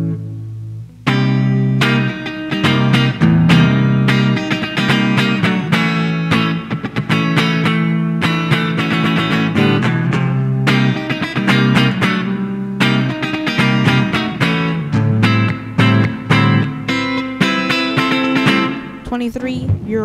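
Electric guitar played through a Fender Mustang IV amplifier on its Touch of Reverb preset, a loud, continuous run of strummed chords and riffs with a light reverb tail, heard alone.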